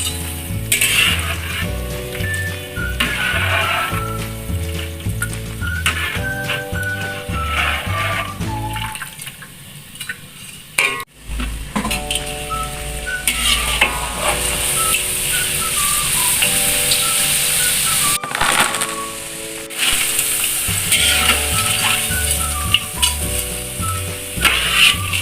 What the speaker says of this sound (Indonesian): Menggorengnya sebentar aja ya Bun, seperti menggoreng kerupuk.